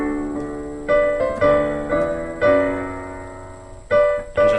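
Piano playing the fill from a song: the right hand strikes paired notes, B with D, then C with E, then back to D with B, over a left-hand part, about six clear struck chords ringing out alone.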